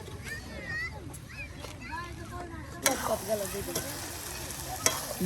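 Spiced dried fish (shutki) sautéing in a pan gives a continuous close sizzle with occasional stirring knocks, while people talk over it throughout.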